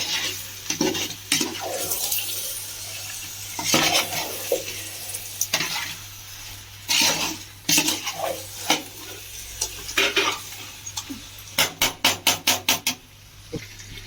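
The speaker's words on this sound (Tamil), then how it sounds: "உப்பு மசாலா சிக்கன் எல்லாம் ஒன்றா சேர்ந்து வதங்கும்" Chicken sizzling and being stirred with rock salt and masala in a pot, a steady frying hiss broken by repeated scrapes and stirs, then a quick run of sharp metallic taps near the end.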